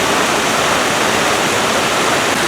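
A man-made park waterfall in Idaho Falls, near a concrete Japanese lantern, pours as a loud, constant broadband rush of falling water with no pauses.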